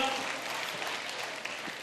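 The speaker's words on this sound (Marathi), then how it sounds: "एकदा स्वतःसाठी जोरदार टाळ्या वाजवून घ्या" An audience at a Marathi music programme claps for itself with even, sustained applause, steady and moderately loud across the whole stretch.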